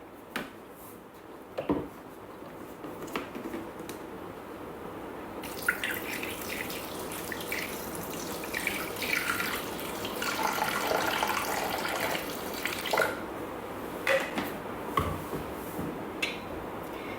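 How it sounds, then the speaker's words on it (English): Filtered water pours steadily into a Thermomix cooking machine, a continuous splashing rush with a few clicks and knocks around it. No talking. "now we're going to put in 250 grams of filtered water"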